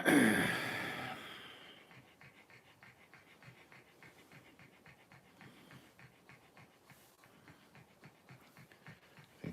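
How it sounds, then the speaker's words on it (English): A dog pants steadily after having its ears cleaned and ear drops put in, rapid rhythmic close breaths that follow a brief louder rustle at the start. "she's just been panting since"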